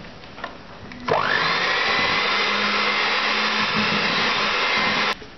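Electric beater whirring through eggless mawa cake batter of maida, milk and butter, with a steady motor hum that starts abruptly after a second, runs evenly and cuts off sharply near the end.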